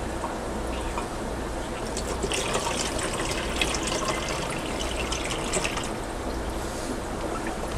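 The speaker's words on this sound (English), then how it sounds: "pour it right into the net." Water carrying fish is poured into a net, making a steady splashing and trickling rush close by that builds in the middle and runs on without pause.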